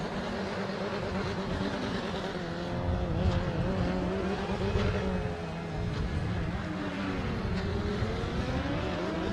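A petrol-engined Formula SAE race car from the University of Queensland accelerates along the track at an Australasian Formula SAE acceleration event in 2016. The engine revs climb and fall in a loud, steady, sustained roar with shifting pitch.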